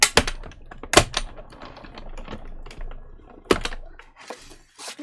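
Blackberry Bliss cardstock is cut by hand nearby, giving sharp clacks and taps of a trimmer or blade with soft scraping between them, in irregular bursts over a quiet background.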